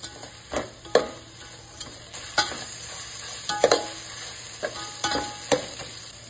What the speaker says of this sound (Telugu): ఇందులో కట్ చేసి పెట్టుకున్న పుదీనా, కొత్తిమీర వేసి ఒకసారి కలుపుకోవాలి.